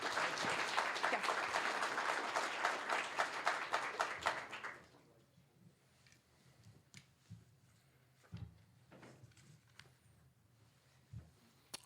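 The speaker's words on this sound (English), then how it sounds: "let's give a round of applause to Chelsea" Audience applause for a finalist at a regional idea pitch competition, a dense burst of clapping for about four seconds that stops abruptly, followed by a quiet room with scattered taps and faint movement.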